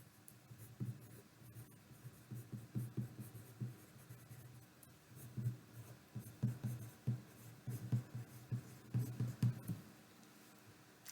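A pen scratches across paper in irregular bursts of strokes, close and quiet, separated by short pauses, with no voices.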